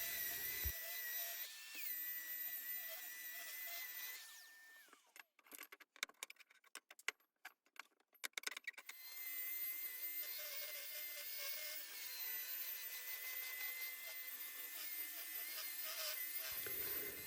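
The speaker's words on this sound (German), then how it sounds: "das überschüssige Harz entfernt und die Scheibe nun plan geschliffen" A power sander whines steadily on a wood and epoxy resin tabletop, breaks into a stretch of scraping and grinding bursts while excess resin is ground flat, then returns to a continuous sanding hum.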